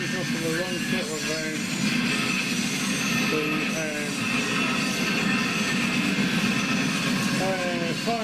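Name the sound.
HO scale Triang Transcontinental model train running fast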